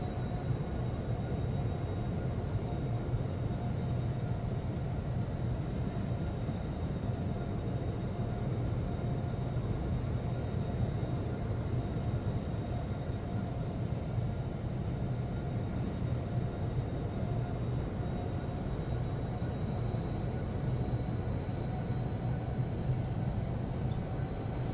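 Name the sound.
airliner taxiing to parking in video game Infinite Flight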